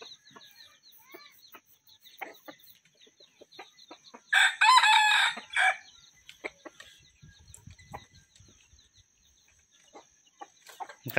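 A rooster gives one loud, close crow lasting about a second and a half, surrounded by scattered soft clucks and rustles from other chickens in a farmyard.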